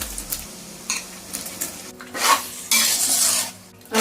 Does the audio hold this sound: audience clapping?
no